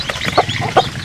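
Native chicken chicks, recently hatched and moved to a new coop, give a couple of short clucking peeps up close over a soft, steady background.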